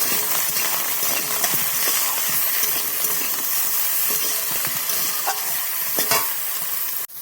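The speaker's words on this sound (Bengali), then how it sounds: "ভালো করে ভেজে নিয়ে সেগুলো লাল লাল করে।" Eggplant pieces frying in a pan, a loud, dense sizzle that holds steady throughout with scraping and stirring clinks over it, close up, ending abruptly.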